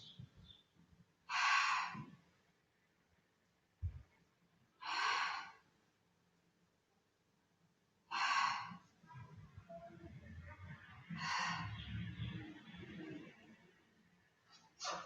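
Heavy, close exhalations during a Pilates exercise, four or five long breathy blows spaced a few seconds apart, with quieter inhales and faint shuffling between them.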